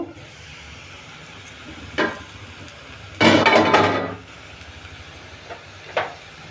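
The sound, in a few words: onions frying in a covered pan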